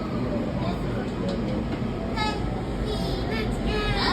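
Steady rumble of a Washington metro Green Line train in motion, heard from inside the car as a continuous low roar with faint higher squeals; a voice speaks over it.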